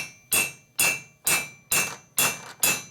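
Six evenly spaced, ringing metal hammer blows drive valve guides into a Harley cylinder head, each strike sharp and close with a short decaying ring, no voices.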